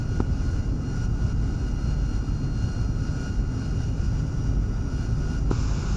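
A-4 Skyhawk jet engine in the DCS flight simulator game: a steady, loud, unbroken engine roar and rumble that holds at one level throughout, with no voices.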